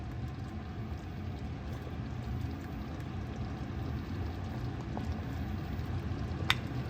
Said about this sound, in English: Now I'm gonna add my cornstarch slurry.